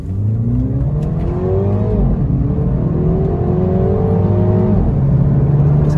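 A MINI Cooper S Convertible in sport mode accelerates hard from a standstill to 100, its engine note climbing through several rising gear sweeps, loud and steady with no talking.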